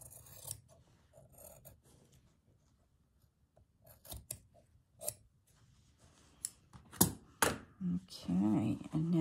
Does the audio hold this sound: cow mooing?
no